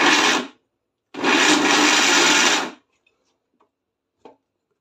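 Blender jar grinding dates and almonds, with a short whirring burst, a pause, then a longer loud grinding run, followed by a few faint ticks and taps.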